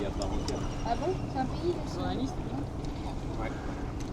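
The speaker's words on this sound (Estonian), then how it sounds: "Siit on näha nüüd siis see mootor." A boat taxi's engine runs steadily near Phi Phi, a continuous low drone with water and wind noise throughout, while people talk over it.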